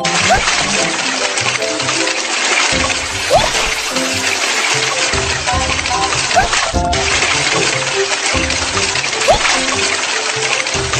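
Splashing, trickling water from a cartoon game scene of washing a furry monster's fur, running steadily under layered game music and sound effects with bright chimes.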